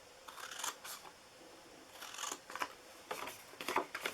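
Scissors snip through paper for a tea box craft, several short crisp cuts in quick clusters close by, faint and with no talk.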